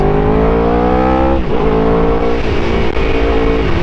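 A loud motorcycle engine, recently repaired after hydrolocking, revs hard and steadily, its pitch climbing and dipping as the throttle is worked, with no pause.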